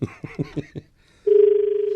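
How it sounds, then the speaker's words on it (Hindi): Telephone call being placed: several short dialing tones in quick succession, then after a brief pause a steady, loud ringback tone that holds continuously. "मिलाओ सक्षम को फोन, अभी मिलाते हैं भाई"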